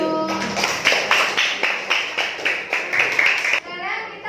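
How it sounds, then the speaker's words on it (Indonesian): An audience claps in a steady, rhythmic burst for a child who has just finished reciting a Quran surah in a classroom. The applause is loud and even and stops abruptly near the end. "Tepuk tangannya buat Mas Deyu."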